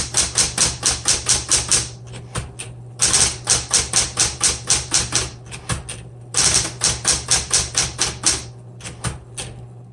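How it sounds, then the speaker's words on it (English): Rapid, steady keystrokes on a 1970s Smith Corona Electra 120 electric typewriter, loud and close, in clattering bursts separated by brief pauses for carriage movement. "Let's go ahead and keep typing."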